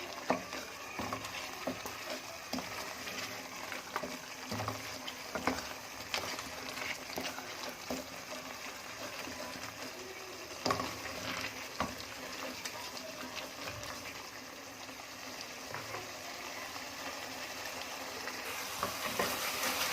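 Mutton with black pepper frying in oil in a pot, a steady close sizzle and crackle that runs unbroken, with faint stirring scrapes mixed in and no talk.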